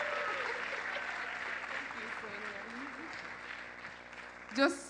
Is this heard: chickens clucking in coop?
no